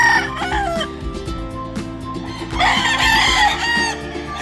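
Roosters crowing before dawn at a gamefowl chicken farm in Lipa, Batangas, several birds calling over one another in loud, overlapping crows with clucking beneath, some near and some farther off.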